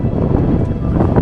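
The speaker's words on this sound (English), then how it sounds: "Okay, so but it's super duper windy today." Strong mountain wind of up to 100 mph buffets the microphone at the Grandvalira ski resort in Andorra, a loud, constant low roar with no break or voices.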